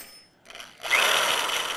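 Electric shears cutting through sheet metal, a brief faint whir followed by a louder, steady high-pitched grinding buzz close by as the blade bites and runs continuously.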